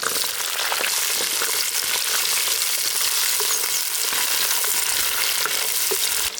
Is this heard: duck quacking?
no